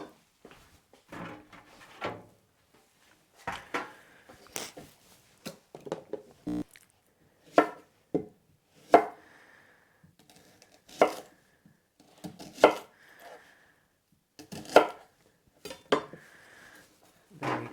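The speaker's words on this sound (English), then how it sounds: "I have some shallots here. I'm just going to cut into some bigger pieces." Knife chopping shallots into large pieces on a cutting board, a series of separate crisp thuds spaced unevenly, close and clear with quiet gaps between cuts.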